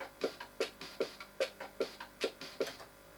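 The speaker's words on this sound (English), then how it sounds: "that noise you can hear, the sort of pinging noise, is the metronome" A steady, quick metronome in a Commodore 64 music program pings in an even rhythm, about eight sharp ticks with short ringing tails, heard alone and fairly faint.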